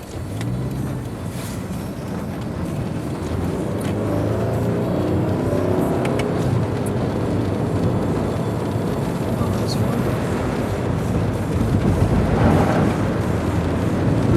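Inside a moving car, a steady engine and road rumble fills the cabin, loud and constant throughout.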